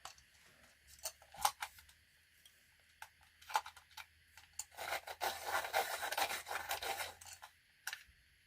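A walnut brown coloured pencil is worked in a sharpener, giving short scraping grinds at first, then a longer, steadier run of rasping shavings, close and alone.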